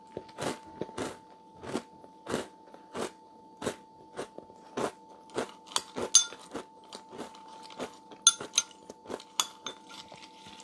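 Someone crunches cereal in steady bites, close and fairly loud, each chew a sharp crackling burst, with faint clinks of a spoon against a bowl and a low steady hum underneath.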